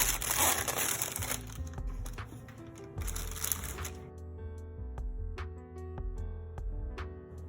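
Fujifilm X-S10 camera being unwrapped from its packaging, close crinkling and crackling of plastic and paper in bursts, then quieter tapping and rustling handling sounds.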